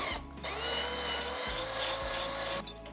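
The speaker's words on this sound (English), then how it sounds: "So it'd be easy unscrewing this, taking it off, and then I can take the brackets off" A power drill unscrewing rusty screws from brackets during a farmhouse remodel, a steady high whine running almost continuously with a brief dip in motor tone midway, close and loud with no talking.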